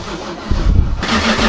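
A car engine is cranked on a cold day and fails to catch, giving a loud close churning rumble from the starter that surges and drops over about a second and a half.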